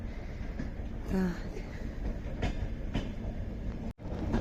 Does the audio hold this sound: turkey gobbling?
no